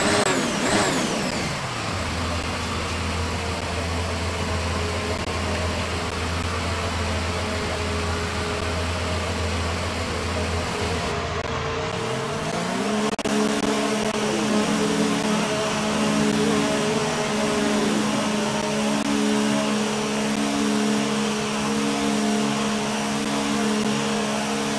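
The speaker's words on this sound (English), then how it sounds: "Car leaving." A Formula 1 car in the F1 2019 video game drones steadily at low revs while leaving the pit, then partway through its engine note climbs sharply as it accelerates away, staying loud and continuous throughout.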